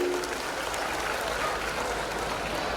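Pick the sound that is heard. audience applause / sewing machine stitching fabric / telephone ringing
audience applause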